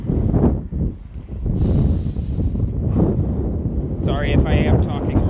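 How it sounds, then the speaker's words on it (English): Gusty wind buffeting the microphone of a cyclist riding a bike in the cold, a steady rushing roar close to the mic that swells louder toward the end. "But okay, gust of wind."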